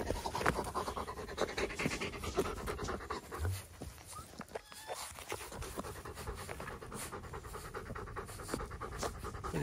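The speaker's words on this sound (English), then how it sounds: "Got some hungry puppies." Hungry four-week-old Great Pyrenees puppies panting rapidly up close, a steady fast rhythm of breathy huffs with a brief pause midway, faint and alone without talk.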